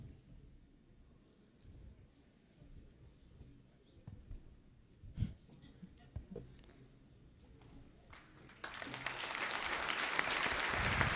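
Crowd applause at a high school wrestling match between Oak Creek and Kenosha Bradford, rising into a loud, sustained burst of clapping near the end after scattered noise and murmuring voices.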